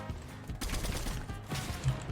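Gunfire in Fortnite, rapid bursts of game shots rattling in quick clusters at moderate volume.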